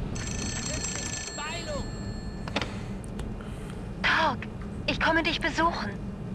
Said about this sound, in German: Da klingelt dein Telefon.